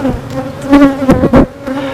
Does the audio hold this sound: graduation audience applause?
no